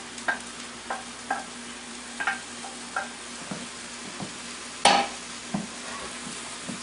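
Brown rice and vegetables are tossed and stirred in a pan with a steady sizzle underneath, broken by several soft scrapes and taps and one louder clatter near the end, heard close up with no talking.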